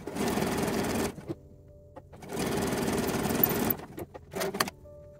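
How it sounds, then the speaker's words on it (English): A sewing machine stitching a quarter-inch seam on a lined bra cup, running in two long buzzing bursts of about a second each, then short stop-start whirs and clicks between runs. "now we're going to stitch this with a 1/4 inch seam allowance"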